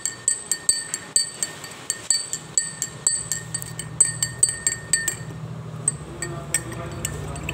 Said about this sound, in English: First, I am mixing the lemonade.